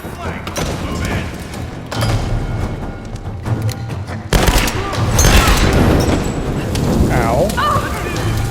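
Gunfire in a Tomb Raider action sequence as the place collapses, with loud volleys and heavy thuds that grow denser and louder halfway through, and voices under the chaos.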